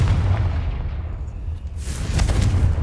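A Confringo fire blast spell from Hogwarts Legacy erupts as a deep, rumbling boom with a sustained roar, followed by a second swelling burst of crackling energy, loud and alone without speech.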